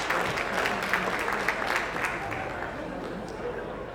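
Applause from the audience at a gun auction during the Rod of Iron Freedom Festival, a steady patter of clapping that stays fairly level throughout, with voices talking over it.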